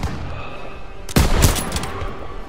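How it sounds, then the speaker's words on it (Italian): In Call of Duty WW2, a short burst of machine gun fire cracks out over a rumbling battle background, a sharp cluster of shots lasting about half a second before the din settles. "Fuoco di soppressione!"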